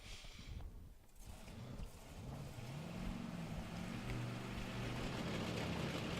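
A drag racing car at a Sydney Dragway championship meet builds into a loud, sustained engine roar with rising harmonic tones, growing steadily stronger and closer over several seconds.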